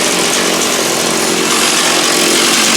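A chainsaw mills a kerf through two fitted pieces of wood during furniture making, a steady, loud, unbroken roar of the running saw that fills the whole stretch on its own.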